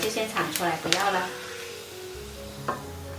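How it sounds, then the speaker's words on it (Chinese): Ginger slices frying in hot oil in a pan, a soft sizzle beneath a voice talking at first, then a quieter steady hiss with one brief clatter. "加一些姜片进来，先煎一会儿"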